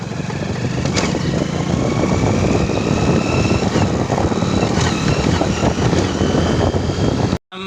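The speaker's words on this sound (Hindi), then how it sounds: "सिर्फ 2 ही आवाज़ कर रहा। चलिए मैं फिर से 2 देता हूँ इसमें।" A Hero Honda motorcycle engine runs in second gear with a gear fault, giving a loud, steady droning roar with periodic knocks, continuous for about seven seconds before cutting off abruptly.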